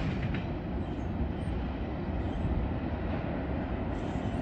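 A Norfolk Southern intermodal freight train rolls past steadily with a dense, continuous low rumble of wheels and cars, loud and close, and no voices.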